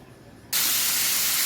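Bay leaf and dried chili dropped into hot oil in a kadai with cumin and whole garam masala, setting off a sudden loud, steady hiss of sizzling after a quiet moment.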